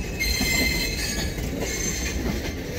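A New York MTA subway train on the L line rumbles loudly and continuously close by, with wheels squealing along the rails.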